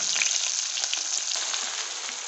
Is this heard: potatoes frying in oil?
yes